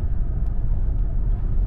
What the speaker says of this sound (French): On a quand même un tout petit peu de bruit de vent.